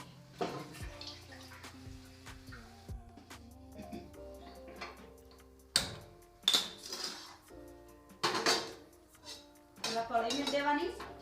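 Metal cooking pots and utensils clink and clatter as a kadhai is set on the stove, sharp ringing knocks scattered across the scene, close and fairly loud, with a voice talking at times.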